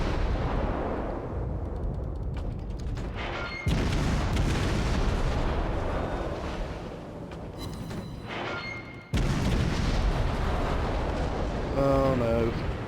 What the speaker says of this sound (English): All I can do is get as many shots away as possible before he takes me down.